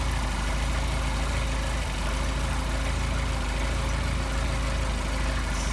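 Mercedes 190SL engine idling on Solex carburetors, a steady, even mechanical drone with a broad hiss, constant in level throughout and close by, with no talk.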